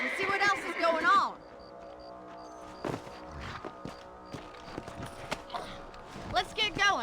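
Horse hooves clip-clopping in Red Dead Redemption, a string of uneven thuds and knocks between stretches of talk, with a voice at the start and the end over a faint musical drone.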